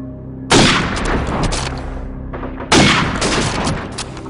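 Two loud bursts of AK rifle gunfire in a video game, each a rapid volley lasting under two seconds, separated by a short gap with lingering rumble.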